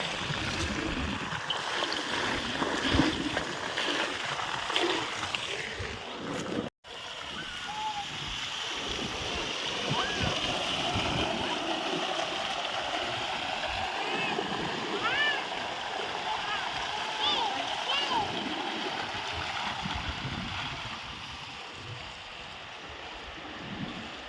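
Rice is washed by hand in water outdoors near a well, with soft swishing and splashing at a low level, one brief dropout, and people talking over it.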